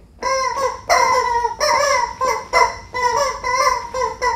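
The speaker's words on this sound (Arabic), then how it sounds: "صوت الوز البط ما يزهق" A goose or duck gives a rapid series of about eight loud, nasal honking calls in an uneven rhythm, close by and alone.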